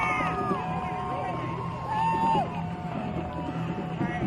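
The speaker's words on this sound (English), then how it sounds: "we're getting crowd noise" Crowd at the 2012 CIAC Class M football championship between Hillhouse and Berlin, a distant wash of cheering and babble from the stands, with whistle-like tones and nearby voices talking over it.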